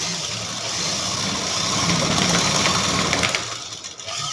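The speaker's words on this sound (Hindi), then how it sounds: "इस तरीके से हमें इसको सीधा रखते हुए सिलाई लगा देंगे" A sewing machine runs steadily, stitching a seam on a blouse, with a continuous close whirring motor sound throughout and no talk.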